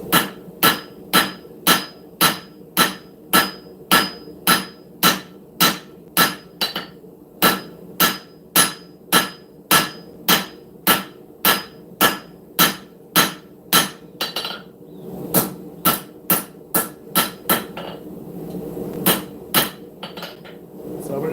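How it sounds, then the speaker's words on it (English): A ball peen hammer strikes hot steel on an anvil while a camp knife is forged, about forty sharp ringing blows in a steady fast rhythm, close and loud, with short pauses near the end. "We can go ahead, go in there with that ball peen and work that out and expand it out."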